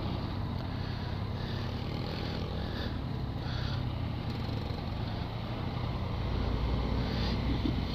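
Yamaha MT-09 motorcycle on the road, a steady low engine drone mixed with heavy wind rush, continuous and fairly loud throughout with no talking.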